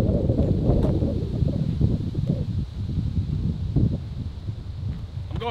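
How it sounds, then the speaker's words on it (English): Right-to-left wind blowing across an outdoor disc golf course, a steady, close rush of buffeting air on the microphone with rustling texture throughout and no talking. "This time we have a right to left wind."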